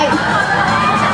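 A crowd of fans at a promotional event for antiperspirant spray shrieks and cheers in one brief, loud, continuous burst of high-pitched excited voices.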